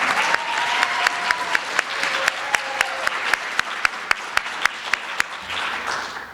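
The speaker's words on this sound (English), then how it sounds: "Can we give another round of applause?" Audience applause at a school poetry recitation competition, a steady wash of many hands clapping for several seconds with sharp individual claps standing out, moderately loud and fairly close, no talk over it.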